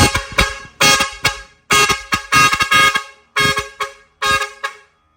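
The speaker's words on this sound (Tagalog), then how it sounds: "At yung fog lamp na sumasabay sa busina pag ginagamit yung air horn" A loud truck air horn, a dual-trumpet type, blasts repeatedly in uneven bursts, some short toots and some longer honks, close and piercing.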